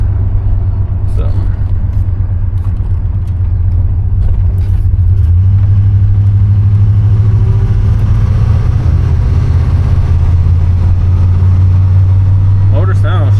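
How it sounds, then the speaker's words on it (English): A 1988 Monte Carlo SS engine idling slightly high, a strong steady low rumble heard from inside the car, with a person talking over it at times. "motor sounds strong though."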